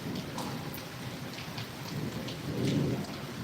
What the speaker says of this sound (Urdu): اور آپ دیکھ سکتے ہیں کافی اچھی بارش ہو رہی ہے